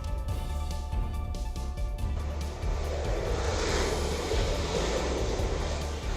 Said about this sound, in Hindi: ब्रिटिश जेट ने उड़ान के लिए रफ्तार पकड़ी और कुछ ही वक्त में विमान ने आसमान की ऊंचाइयों को छू लिया